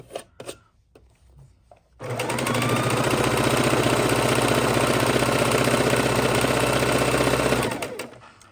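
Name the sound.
Singer heavy duty sewing machine sewing fabric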